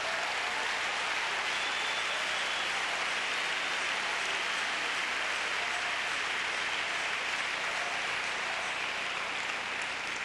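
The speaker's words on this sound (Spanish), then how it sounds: "Un aplauso." A church congregation claps in sustained applause, a dense, even roar of many hands continuing without pause for about ten seconds.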